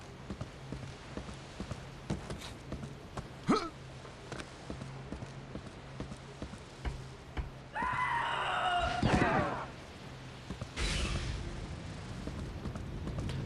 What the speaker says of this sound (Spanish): esa voz gritando del Unreal 1